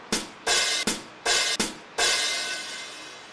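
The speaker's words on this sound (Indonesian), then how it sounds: "Ini suara hi-hat-nya." A hi-hat cymbal on a real drum kit struck in five crisp, close hits, each ringing briefly before the next, the last left to sizzle and fade, with no talking.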